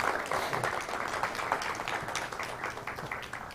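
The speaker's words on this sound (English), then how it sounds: "let's clap for the talk" Clapping from a conference audience after an economic theory workshop talk, a moderate, continuous patter of many hands heard from some distance, fairly even throughout.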